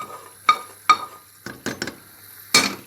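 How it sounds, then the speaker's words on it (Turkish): Spoon clinking against a pot while lentil noodle soup with fried onion mixture is stirred, a handful of sharp metallic taps and scrapes spaced irregularly, close and clear with no talking. "Evet, karıştırıyorum."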